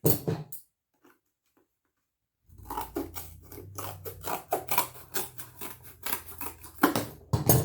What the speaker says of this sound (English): And then we are going to cut that line.